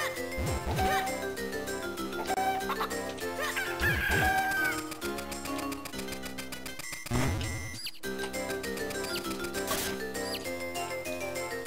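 Chickens cluck and crow in the Game Boy Advance game The Legend of Zelda: The Minish Cap, short chirpy bursts scattered over steady, loud game music throughout.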